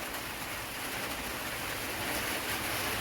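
Heavy winter rain pours down in a steady, even hiss of dense falling water, nearby and fairly soft, with no voices or other sounds.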